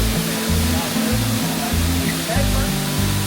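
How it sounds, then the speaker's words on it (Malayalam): High Falls at Rock City roars as a loud, constant broadband rush of falling water, with a voice talking over the torrent throughout. "നല്ല വെള്ളച്ചാട്ടം കാണാം."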